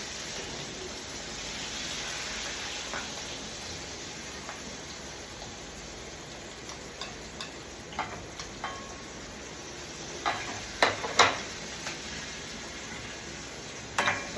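Onion, capsicum, curry leaves and hing sautéing in a home kitchen pan, a steady soft sizzle with scattered sharp clinks and scrapes of a spoon stirring against the metal, growing busier toward the end.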